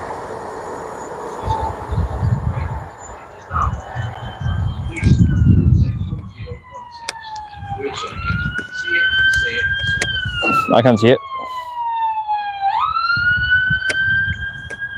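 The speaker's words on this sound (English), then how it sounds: "I'm thinking ambulance, judging by the sound of it." An ambulance siren wails close by, rising and falling in long sweeping tones after a rumbling train sound at Wallyford, with people talking now and then.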